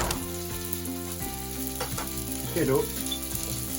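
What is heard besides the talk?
sprouts and broccoli frying in butter in a pan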